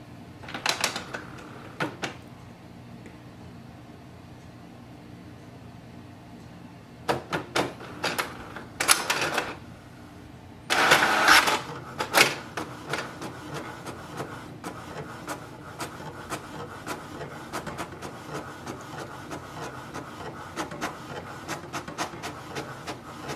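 An HP DeskJet 3700 series inkjet printer printing a page nearby: soft mechanical whirring with several louder bursts of feeding and carriage rattles, then a steady ticking hum.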